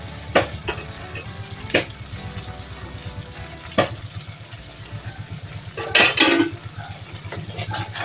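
Spice mixture for an egg-coated kofi kabiraji being sautéed and stirred in a pan, with a steady sizzle under sharp scrapes and clinks of a spatula against the metal at irregular intervals.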